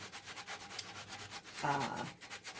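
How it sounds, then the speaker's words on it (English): A sandpaper block rubs back and forth over the glued seam of a glass vase, producing rhythmic, soft, close scratchy strokes that repeat steadily, with one slightly louder stroke partway through. "sandpaper block and just kind of smooth it out right there"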